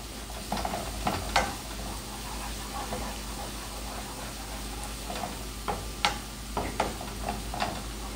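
Chickpeas (channa) fry with garlic in a pan, a steady sizzle broken by scattered scraping stir clicks and taps, close and alone.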